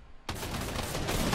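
Gunfire from Fortnite during a Friday Cash Cup match breaks out suddenly after a brief quiet and keeps going as a dense, loud, continuous burst of rapid shots for about a second.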